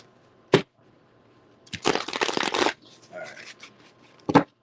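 Tarot cards are shuffled in short bursts: a sharp snap, then a longer riffling flutter, a softer patter of cards, and a final crisp snap, all close by with no talking.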